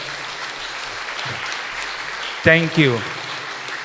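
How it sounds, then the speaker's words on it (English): A gathering of parishioners applauds the priests and parishioners of Fatorda, and the steady clapping carries on under a voice briefly thanking them. "please give them a round of applause"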